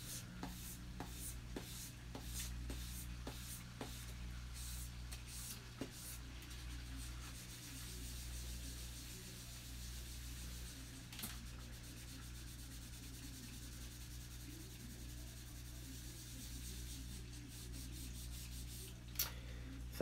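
Sanding with 1000 grit sandpaper, a soft steady rubbing scratch repeated in quick strokes, faint and close, with a low background hum and a few sharp ticks.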